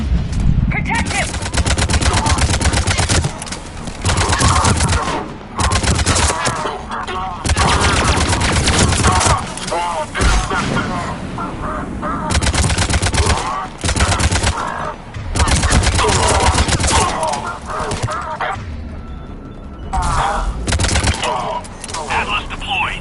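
Rapid bursts of automatic gunfire and heavy weapon blasts in the Mass Effect 3 video game, loud and sustained battle fire that breaks off in short lulls, with game voices calling out beneath it.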